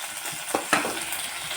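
Chopped tomatoes hit hot oil in a pan, raising a steady close sizzle with a couple of sharper splashing bursts as the pieces land, no voices.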